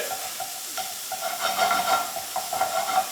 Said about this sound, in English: We're going to saute that up a little bit, get that going, okay?